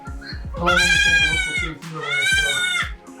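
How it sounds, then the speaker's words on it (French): Sheep and goats in their ground-level pen bleat in two long, wavering calls, close and loud, with a rhythmic tapping underneath. "de l'autre côté, nous avons nos moutons."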